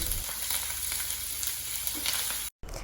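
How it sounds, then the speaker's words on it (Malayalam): Lentils frying in a pan with ginger, green chili and curry leaves added give a loud, steady, dense sizzle that holds throughout, cuts out briefly near the end and then resumes. "പരിപ്പൊക്കെ ഫ്രൈ ആയി കളറ് മാറി വരുന്ന സമയത്ത് അരിഞ്ഞു വെച്ചിട്ടുള്ള ഇഞ്ചി, പച്ചമുളക്, കറിവേപ്പില ചേർത്ത് കൊടുത്ത് ഒന്നുകൂടെ ഒന്ന് മൂപ്പിച്ചെടുക്കുക."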